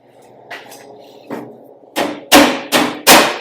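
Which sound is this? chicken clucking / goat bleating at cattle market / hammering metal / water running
hammering metal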